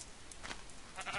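Faint sheep bleats in the video game Minecraft, two or three short soft calls in quick succession against a quiet background.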